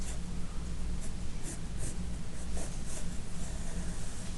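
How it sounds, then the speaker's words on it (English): A pen scratches across paper, drawing a straight line on a graph, in a steady soft continuous scrape with a few brighter strokes over low background hum. "And now I'm just going to draw a straight line like this."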